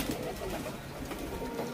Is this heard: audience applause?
no